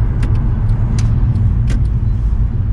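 A tuned 510 bhp Mercedes C63 AMG cruises along a road, its engine a steady, loud low rumble heard from inside with a few brief clicks and knocks over the drone.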